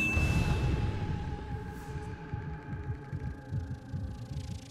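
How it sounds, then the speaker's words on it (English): A slow, thudding heartbeat effect from the film Spirit Untamed pulses steadily over a low hum and faint tonal drones, fairly quiet, with no talk. "What's with the heartbeat?"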